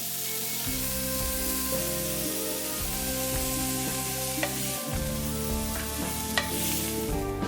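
Greek chicken skewers with lemon and oregano browning in a pan, giving a steady, even sizzle throughout with a few light stirring clicks, set under continuous background music.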